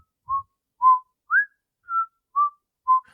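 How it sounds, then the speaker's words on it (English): A person whistles six short, clear notes at a relaxed, uneven pace, each a brief tone on its own with silence between, close and moderately loud. "And you can see just Deputy Tawny just standing there, just whistling as you guys walk by."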